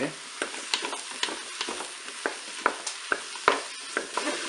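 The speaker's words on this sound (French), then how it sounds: "Je vais ajouter mes champignons. Je vais mélanger." Mushrooms sautéing in a Cookeo multicooker, with a soft sizzle under repeated light scraping and clacking stirring strokes spread at irregular intervals, fairly close.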